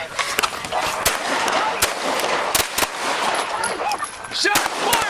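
Gunfire during a police shootout beside an Impala, several loud sharp shots spaced irregularly across the span amid a noisy, chaotic scene with voices in the background.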